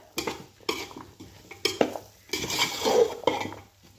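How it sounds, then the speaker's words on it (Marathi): Mixed vegetables are sautéed in a pan for a festive shared meal, with a spoon stirring and scraping against the metal in a steady rhythm over a soft sizzle, close up and with no voices. "हे बघा भाज्या आपल्या छान परतून झालेल्या आहेत"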